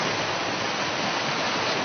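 Water in a stream rushes continuously as a steady, broad hiss, close and unbroken, with no voices over it.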